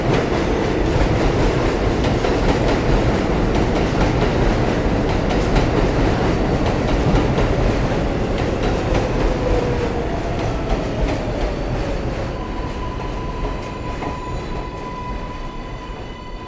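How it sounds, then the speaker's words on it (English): An R188 7 subway train rumbles and clatters into 74 St-Broadway station, wheels rattling over the rails, slowing down as a faint squeal rises near the end. "There is a Manhattan bound, local 7 train to 34th Street, Hudson Yards."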